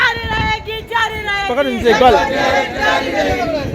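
Protesters at Abbasi Hospital chant slogans in unison, loud and close, their rhythmic voices rising over a noisy, agitated crowd.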